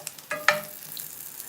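Plant-based meatballs frying in a pan on the stove, stirred now and then, with a couple of scraping knocks of the utensil over a soft, steady sizzle and no one talking.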